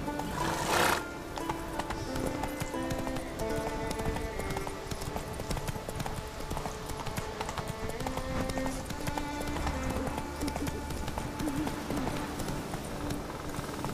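Horse galloping in The Witcher 3, with rhythmic hoofbeats clip-clopping steadily over a musical score and a brief neigh near the start.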